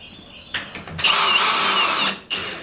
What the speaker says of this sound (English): It depends on your degree of your drill.